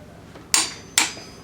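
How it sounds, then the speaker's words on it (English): Torque wrench tightening a camshaft sprocket bolt during a head gasket job: two sharp, bright metallic clicks about half a second apart, close and alone over quiet room noise. "Then we're gonna torque it down to 75 foot/pound."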